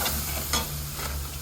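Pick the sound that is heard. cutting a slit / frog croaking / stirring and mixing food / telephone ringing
stirring and mixing food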